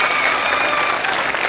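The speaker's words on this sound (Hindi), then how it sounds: "एक बार जोरदार ताली भाई विजय तिवारी साहब के लिए।" An audience at a public gathering claps for Vijay Tiwari, a dense, loud burst of applause that runs steadily and close, with a faint murmur of crowd voices mixed in.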